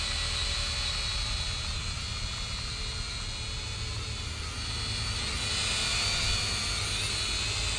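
A steady, high-pitched whirring buzz of an E88 Pro toy drone's small propellers in flight runs continuously and fairly loud, swelling slightly toward the end, with broadband wind-like noise underneath.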